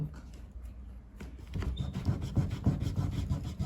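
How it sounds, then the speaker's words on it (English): A wet wipe rubbing oil-based marker ink off a surface, a steady scrubbing friction that strengthens into repeated rhythmic rubbing strokes, close and fairly quiet. "it's just gonna take a lot of rubbing to get it all off fully"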